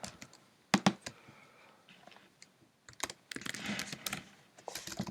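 Typing on a computer keyboard, close and clear: isolated sharp key clicks at first, then quick irregular runs of keystrokes in bursts, with no speech over them.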